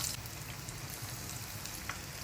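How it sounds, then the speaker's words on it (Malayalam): Eggplant slices sizzle in hot oil, a steady close crackling hiss with scattered pops that holds evenly for the whole stretch. "വഴുതനങ്ങയും 2 സൈഡ് പൊരിച്ചെടുക്കണം."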